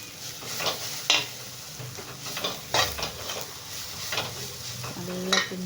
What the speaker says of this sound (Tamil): மஞ்சள் தூள், மிளகாய் தூள் போட்டு நல்லா கிண்டிக்கோங்க